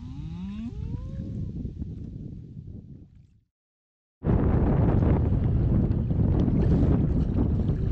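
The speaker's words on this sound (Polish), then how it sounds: "wiatr boczny." Strong crosswind buffets the microphone in a loud, steady roar after a brief silence, with a harmonic voice-like tone rising earlier over low rumble, on a kayak trip to the sea.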